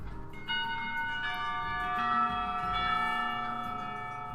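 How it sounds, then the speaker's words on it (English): School bell in the Katawa Shoujo visual novel, a sustained ringing chime with layered bell tones that swells and then lingers, heard clearly with no talking. "the final bell rings"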